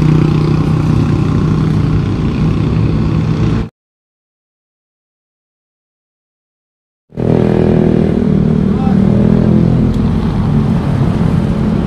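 A motorcycle engine runs steadily during a short test ride, loud and close. The sound cuts out completely partway through, then resumes at the same level.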